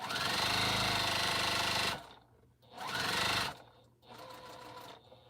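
A Bernina sewing machine stitches a quilt in three close bursts, the first long and steady, then two shorter runs of rapid mechanical whirring separated by brief quiet gaps.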